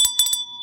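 A bright electronic bell ding used as a dinner bell, three quick metallic strikes in succession with a sustained ringing tone fading afterward, clear and alone.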